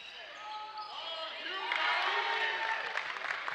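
A basketball dribbled up the court during a high school boys game between Washington County and Elizabethtown, with bounces under crowd noise and an announcer talking.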